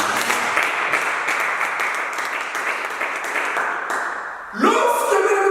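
Sustained applause and clapping from a church congregation acclaiming Jesus during a fasting and prayer service, steady and full for several seconds before a brief swell of mixed voices and music.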